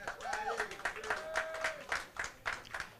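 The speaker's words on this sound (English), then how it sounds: "we have a nice round of applause for Jung-Lin CHANG" Applause for a pool player being introduced before a hot seat match at the 2019 US Open 8-Ball Championship, light scattered clapping with irregular claps running through, a faint tone and talk-like sounds behind.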